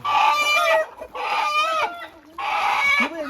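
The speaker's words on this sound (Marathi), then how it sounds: "गावठी कोंबडा आता लेरवायचा आहे" A country rooster calls out loudly and close in three strong, drawn-out bursts with short pauses between them.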